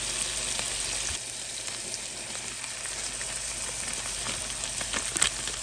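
Ginger garlic paste, chili and cumin sizzling in a little oil, a steady soft crackle and hiss with occasional small pops, no talking.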